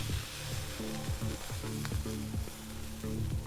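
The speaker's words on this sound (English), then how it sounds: "Generous amount of that flaky salt, seasoning, rub, and we fry" Seasoned steak rubbed with flaky salt frying in a pan, a dense continuous sizzle close up, overlaid with faint tonal background hum, no talking.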